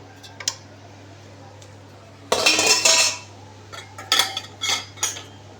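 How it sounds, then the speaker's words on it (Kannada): Cashews and raisins go into jaggery syrup in a metal pan with bursts of loud clattering and clinking of spoon and vessel, separated by near-quiet pauses and a low steady hum. "ಪಾಕಕ್ಕೆ ಗೋಡಂಬಿ ದ್ರಾಕ್ಷಿ ಹಾಕೋತಾ ಇದ್ದೀನಿ"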